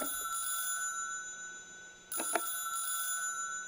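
A payphone rings in the video game Karoshi Club, two electronic ring bursts separated by a short gap, clear and alone over a faint background hum.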